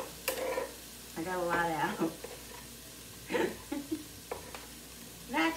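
Garlic and onions sizzle and get stirred in a pan for a cozy homemade chili, a steady low frying hiss running under a person talking, with a few scraping stirs.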